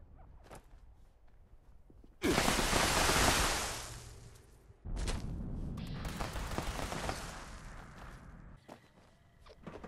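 Heavy bursts of weapon fire in Fallout 76 PvP combat, two long loud roaring blasts separated by a short gap, with scattered smaller hits and noise before and after, no talk.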